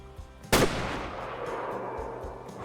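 A single sharp rifle shot aimed at an animal in Way of the Hunter 2, loud and close, followed by a long rolling echo that fades across an outdoor setting.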